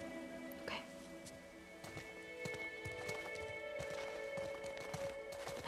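Horse hooves from The Last of Us Part II clop in a loose, irregular rhythm amid a horse's brief whinny and stable ambience, moderately faint under a steady background hum, with people talking over it.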